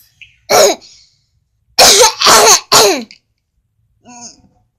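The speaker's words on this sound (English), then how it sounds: "And a back cough." A child's coughs from a cold with sniffles: one sharp cough, then a quick burst of three close, loud coughs, and a faint throat sound after, with no talking.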